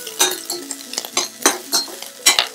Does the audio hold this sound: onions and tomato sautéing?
yes